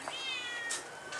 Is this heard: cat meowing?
yes